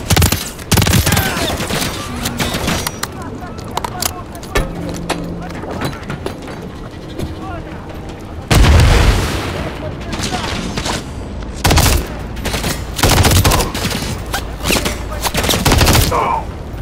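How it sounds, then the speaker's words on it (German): Dense video-game gunfire from Call of Duty Modern Warfare 3 fills the whole stretch: loud, continuous automatic bursts mixed with booms. The firing swells sharply several times and never pauses. "Feindliche Schüsse!"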